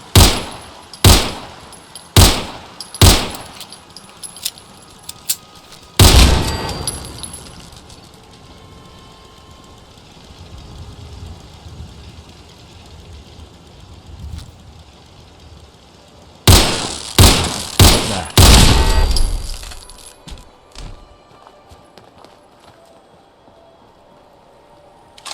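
Rooftop turrets firing in Fallout 4: sharp, loud bursts of gunfire in clusters, with short rapid volleys at the start and a dense barrage later, separated by a stretch of low rumbling ambience.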